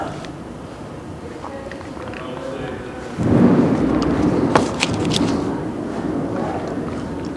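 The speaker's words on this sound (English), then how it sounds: "Lot of thunder." Thunder rolls in a deep, broad rumble that swells suddenly about midway and lingers loudly, over a steady background hiss with faint voices nearby.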